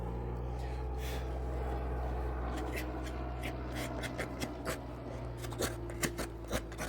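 Knife or carving tool taking fine finishing shavings along a green wood bread bowl, a run of short scraping strokes that sharpen into distinct cuts toward the end, over a steady low hum.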